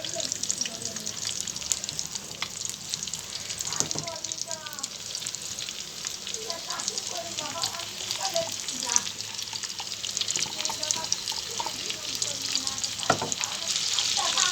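Masala-coated fish pieces frying in oil in a pan, a steady crackling sizzle throughout with a few sharper pops and spatters, close and moderately loud, no talking.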